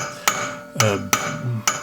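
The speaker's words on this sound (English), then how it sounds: "trying unsuccessfully to do that with a hammer" Hammer blows against a Skoda Octavia drive shaft during wheel carrier removal, four sharp metallic strikes spaced irregularly, loud and close with ringing decay.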